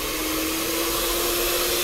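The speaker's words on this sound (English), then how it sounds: "we need to mix it on with the electric mixer on high speed for 4 minutes" An electric mixer runs on high speed, whipping a Hostess Ding Dong dessert kit mixture. The motor gives a steady, even whir with a constant tone and no breaks, and no one speaks over it.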